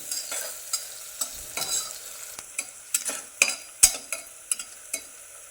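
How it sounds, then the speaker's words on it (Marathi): Onion with ginger-garlic paste is stirred and fried in a pan. A soft fry runs under repeated sharp scrapes and taps of a spoon against the pan at an uneven rhythm, close and fairly quiet. "अद्रक लसूणची पेस्ट पण टाकून घेतलेली आहे ती पण दोन मिनिटासाठी अशी हल हलवत राहायची"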